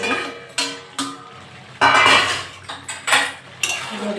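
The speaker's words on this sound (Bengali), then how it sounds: "ঢাকাটা খুলে নেবো," A lid lifted off a cooking pot of prawn curry with ridge gourd, potato and pumpkin, giving a run of sharp close metallic clinks and scrapes of steel against steel, a few seconds of irregular clatter without speech.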